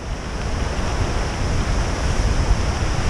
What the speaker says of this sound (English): Pretty river. Angry river.